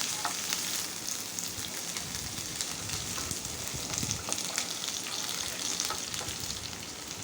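Chopped ginger and curry leaves fry in oil in a pan for semolina upma. A quiet, steady sizzle and crackle runs throughout, with faint scraping as they are stirred, and there is no talking.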